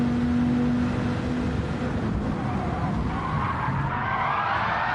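Gr.4 race car sliding with its rear end stepping out under braking in Gran Turismo 7, a loud continuous skid and tire scrub over steady engine drone, rising in pitch toward the end, with no voices.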